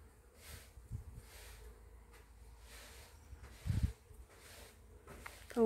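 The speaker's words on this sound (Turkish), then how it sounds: "Bütün arılar burada." Bees buzz around blossoming apple tree flowers in a village orchard, a soft, faint hum drifting in and out under quiet outdoor ambience, with a louder rustle near the end.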